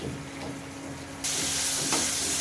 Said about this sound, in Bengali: আলুটা দিয়ে আমি একটু কষে দিচ্ছি